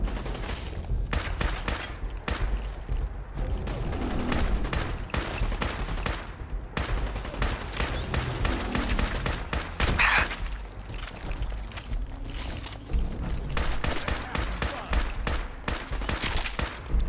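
Gunfire in the video game Fallout 4, a long run of rapid, dense automatic shots and bursts pounding almost without pause, loud and close, with a few brief mechanical clicks between volleys.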